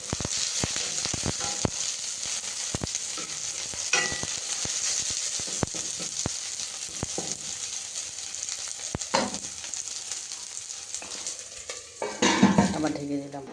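Water dripping off a pot lid sizzles and crackles in a hot pan on a home stove, a steady close frying hiss with scattered sharp pops and a louder burst of spitting near the end.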